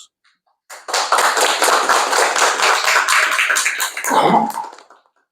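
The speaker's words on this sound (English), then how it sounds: "So that's why I give you a round of applause." An audience at a visit to the Exabytes data center facility in Malaysia gives a round of applause, dense clapping beginning sharply and holding steady for about four seconds before trailing off.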